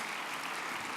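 An auditorium audience clapping, a dense, even wash of applause at moderate volume that fills the whole moment with no voices.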